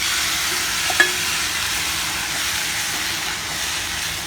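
Tomatoes frying in an oiled pan for a Chhattisgarhi bamboo-shoot curry give a steady, close sizzling hiss, with one light clink of a utensil early on.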